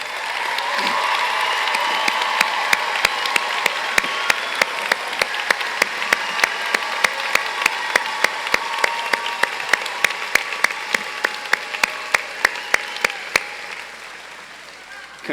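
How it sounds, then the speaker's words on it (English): Large audience at a school district convocation breaking into applause, a broad sustained wash of clapping with cheers, under which a single sharp rhythmic clap repeats steadily near the microphone. "Let's give them a round of applause."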